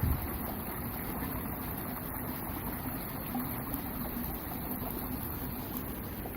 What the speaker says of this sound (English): Listen to that stream.